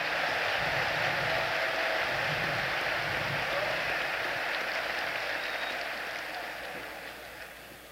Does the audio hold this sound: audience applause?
yes